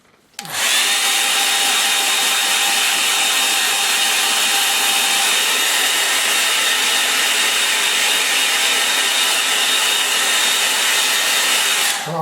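A hair dryer blasts a watercolour painting dry, switching on abruptly and then holding a loud, steady, close whooshing roar for about twelve seconds with no talk over it.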